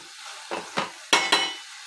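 A spoon stirs cluster bean curry with salt in a pan. Several quick, sharp scraping strokes and clinks land against a soft, quiet sizzle.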